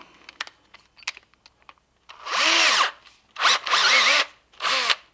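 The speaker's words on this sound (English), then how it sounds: "drill our 1/4 inch hole through the wooden rod handle" A power drill bores a 1/4 inch hole through a wooden rod handle on a homemade tip-down, with a few clicks and taps followed by three loud whirring bursts separated by short pauses.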